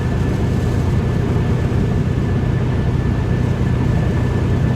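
A Jeep with a distributor-equipped motor drones steadily while driving, a continuous loud low rumble of engine and road noise with no voices.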